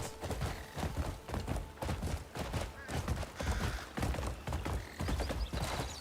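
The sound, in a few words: horse hooves and neigh in video game Crimson Desert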